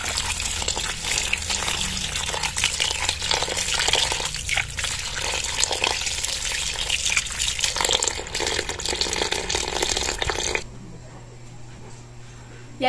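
Running tap water gushes and splashes steadily for several seconds while vegetables are rinsed, then cuts off, leaving a quiet hum.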